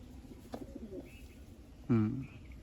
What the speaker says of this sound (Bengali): খুব সুন্দর একটা পায়রা